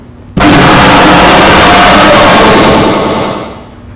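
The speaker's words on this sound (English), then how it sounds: "Yep, there's gonna be a jump scare." Jump scare in the Roblox game Piggy VHS Archives: a sudden, very loud blast of harsh static noise hits at once, holds for about three seconds, then fades slightly, with no talking.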